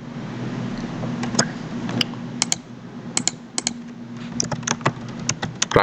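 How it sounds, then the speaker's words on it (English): Keys clatter on a computer keyboard in irregular bursts of sharp clicks, close and fairly faint over a steady hum, with no talking. "my keyboard is misbehaving"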